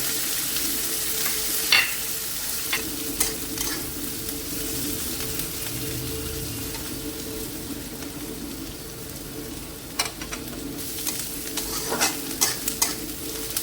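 Onions frying with bay leaf and carrot in a pan for chira pulao, a steady close sizzle running throughout with scattered scraping clinks of a spoon stirring, no talking.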